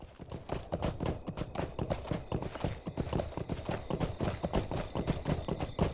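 Horse hooves clip-clop in the video game Lord of the Rings Online, in a steady, brisk rhythm, fairly close and unbroken for several seconds.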